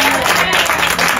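A church congregation applauds and cheers together, a dense steady wash of clapping and voices that fills the short moment without a break.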